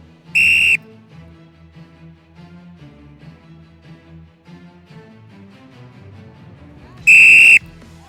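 A referee's whistle gives two loud, sharp blasts, one at the start and one near the end, as a race begins on a game show, with music playing quietly underneath.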